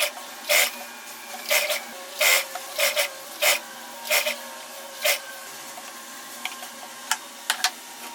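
Sewing machine stitching dress fabric at home: short, regular bursts of mechanical whirring and rattling in a stop-start rhythm, fairly close, with quiet gaps between runs.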